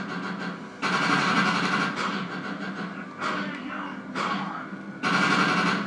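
Rapid automatic gunfire in the Defiance video game on PS3, several long sustained bursts separated by brief pauses, loud and close within the game mix.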